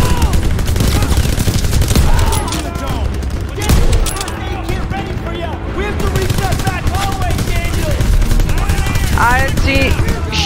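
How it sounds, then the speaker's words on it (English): Dense gunfire in Call of Duty WW2, a steady barrage of shots and bursts running through the whole stretch, loud and continuous, with battlefield noise and game voices mixed in. "Where the hell is the dude shooting?"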